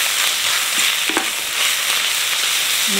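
Onions caramelizing in a pan for tarragon onion soup hiss in a steady, loud sizzle while a utensil scrapes and stirs them now and then, close up with no talk.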